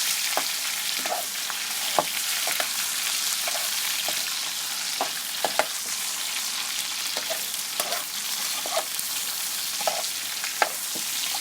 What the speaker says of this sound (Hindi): चिकन की ज़रा बुनाई करेंगे अच्छे तरीके से प्याज के साथ ही